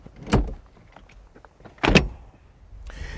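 Rear door of a 2021 Fiat 500 Hybrid opening and thumping shut as someone climbs out, two sharp close knocks about a second and a half apart, then a faint mechanical whir.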